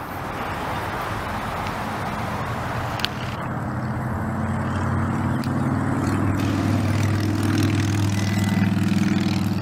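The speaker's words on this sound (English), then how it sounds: "And the plane is off in the distance." A propeller airplane flying in the distance over Asheville, North Carolina: a broad low engine drone that becomes steadier and more tonal partway through, continuous and moderately loud over outdoor background noise, with no talk.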